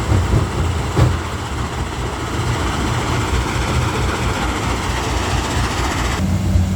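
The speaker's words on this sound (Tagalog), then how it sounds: "Yan naman guys yung genset namin na ginagamit, itong maliit." A small generator set powering a stone crusher runs with a loud, steady, rough drone throughout, with a single sharp knock early on.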